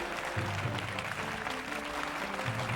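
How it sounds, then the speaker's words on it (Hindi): Audience applause welcoming a judge, Tribhuvan Master, at a dance competition stage event, a faint, steady wash of clapping over low background music. "त्रिभुवन मास्टर जी का जोरदार तालियों के साथ स्वागत कीजिए"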